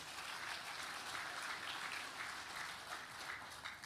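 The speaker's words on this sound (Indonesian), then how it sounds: "Tepuk tangan untuk TNI dan Agrinas Pangan." A large audience claps at an official ceremony inaugurating village cooperatives in Nganjuk, a continuous, fairly distant roll of applause with no voices over it.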